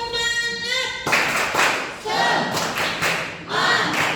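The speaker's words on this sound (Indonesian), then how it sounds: "Untuk menambah semangat kita belajar pada hari ini, kita tepuk semangat dulu ya." A classroom performs a rhythmic "tepuk semangat" clapping chant. A voice starts alone, then several quick bursts of group clapping follow in a patterned rhythm, mixed with chanted voices.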